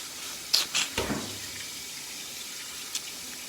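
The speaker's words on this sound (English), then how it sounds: "Let me rinse off my hands." Tap water runs into a kitchen sink while hands are rinsed beneath it, with a few short splashes at the start giving way to a soft, steady stream close by.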